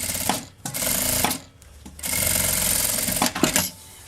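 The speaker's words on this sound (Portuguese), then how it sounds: "Vou passar uma costurinha aqui, ó, nessa lateral, só na lateral por enquanto." A sewing machine stitches the side seam of a fabric travel cosmetic case, running in several quick, buzzing bursts separated by short pauses, close and clear with no talk.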